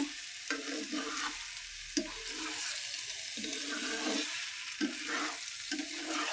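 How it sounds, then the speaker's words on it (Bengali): Rice grains frying with chicken pieces in a pan for chicken biryani, a faint, steady hiss with soft stirring scrapes, no voices. "চালটা মাংসের সাথে ভালো করে ভেজে নেব"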